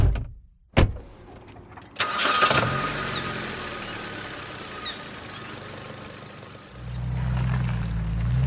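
A car door thuds shut, then the engine starts and settles into a steady idle before pulling away, close and fairly loud with no voices.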